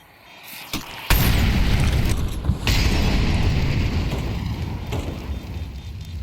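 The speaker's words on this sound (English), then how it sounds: "Oh, lovely flashbang." A flashbang grenade in Counter-Strike goes off with a sharp, loud burst after a couple of small clicks, followed by a long sustained ringing roar that fills the rest of the stretch and slowly eases.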